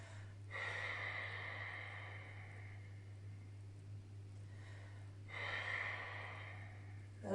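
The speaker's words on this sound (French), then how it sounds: "Sauf qu'on va venir fermer la bouche et qu'on expire par le nez." Yoga breathing with the mouth closed, air pushed out through the nose in two long, steady exhales separated by a quiet pause, close and soft over a low steady hum.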